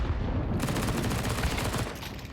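Gunfire and a grenade blast in a Counter-Strike esports match, a dense burst of rapid shots and a boom filling the whole moment, loud and alone with no talk over it.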